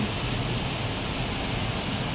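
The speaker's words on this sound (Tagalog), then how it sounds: "biglang bumuhos ang malakas na ulan at hangin" A dense, steady roar of heavy typhoon rain fills the clip, broad and continuous with no pauses, a gusty wash of strong wind blended into the downpour.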